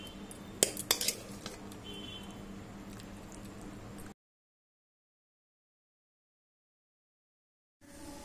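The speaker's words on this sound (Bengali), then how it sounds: "এবার আমি এটাকে একটা পাত্রে ঢেলে রাখছি।" Chilli paneer is scraped and poured from a pan into a serving dish: a few sharp metallic clinks and spoon scrapes, fairly close, for about four seconds, then a sudden stretch of silence before faint room noise returns.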